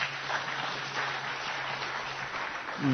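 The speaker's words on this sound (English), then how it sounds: "Very muted applause for that proposition" Faint, muted applause from an audience at a Hay Festival talk, a soft diffuse patter of scattered clapping spread evenly over a few seconds, with a low steady hum underneath.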